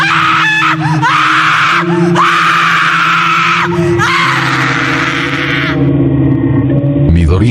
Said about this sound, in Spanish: Su grito fue ahogado por el rugido del fuego